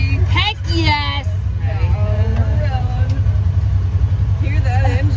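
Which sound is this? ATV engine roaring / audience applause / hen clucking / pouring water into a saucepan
ATV engine roaring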